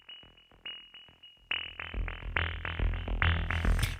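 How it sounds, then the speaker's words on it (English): A synth bass line run through a filter with resonance pushed too high, a rapid string of plucked, buzzy notes that grow brighter, harsher and more ringing as the sweep opens, loud and alone. "because when you push the resonance too much, it sounds like this."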